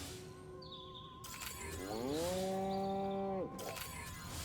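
A cow moos inside the video game Destroy All Humans, one long, loud, drawn-out bellow that rises and holds before cutting off, heard alone over a faint game ambience.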